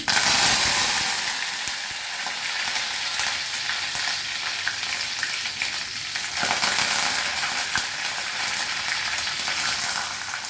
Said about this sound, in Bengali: সর্ষে দিলাম, কালো সর্ষে, কারি পাতা দিলাম